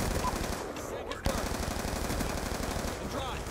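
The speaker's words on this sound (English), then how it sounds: "does the MTAR really shoot like that?" An MTAR assault rifle in Black Ops 2 fires in rapid automatic bursts, a dense loud rattle of shots filling the clip with a brief gap, while a player talks faintly.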